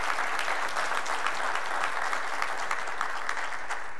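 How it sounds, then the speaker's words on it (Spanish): A church congregation applauding, a continuous, even roar of many people clapping at once, sustained throughout with no speech on top. "Desen un fuerte aplauso así unos a los otros"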